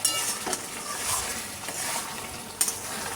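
Chicken is stir-fried in its own released juices for Bengali chicken kosha, with a close sizzle, spatula scrapes against the pan and a sharp metallic clink near the end.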